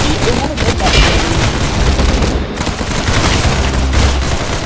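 Rapid gunfire in the video game Arsenal, dense bursts of shots and booms that run continuously and loud, close up, with no pauses.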